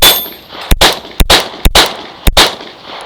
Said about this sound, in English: This is more of the 226 that people know with the DASA option. And it's very easy to fire.